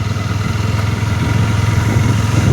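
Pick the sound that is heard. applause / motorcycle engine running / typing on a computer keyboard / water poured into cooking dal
motorcycle engine running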